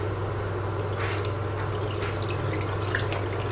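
Warm water is tipped out of a container, a continuous close splashing and trickling pour running steadily over a low constant hum, without talk.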